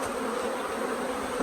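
Honeybees hum around a hive while a queen is being caged, a steady close drone with no voices.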